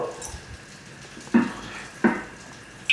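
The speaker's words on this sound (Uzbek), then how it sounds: "5 qoshiq yog' solamiz" Cooking oil spooned into a heated pot for bean soup, two separate wet splashing sizzles about a second apart over quiet kitchen background, with a third starting right at the end.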